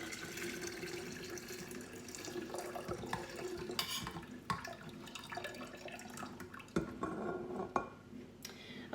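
Tea pours and trickles into a jar, with drips and a few light clinks of glass or dishes, fairly quiet and close.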